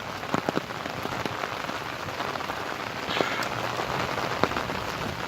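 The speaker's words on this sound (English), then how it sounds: "you could hear the rain is coming down harder" Heavy rain pours down steadily during a morning walk on a residential street, a dense close hiss with scattered louder drops and patters, no talking.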